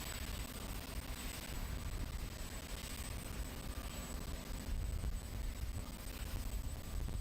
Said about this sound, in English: Now the former president getting inside the helicopter, and we should be able to watch it take off.